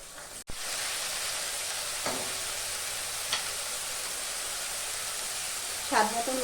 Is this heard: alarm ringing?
no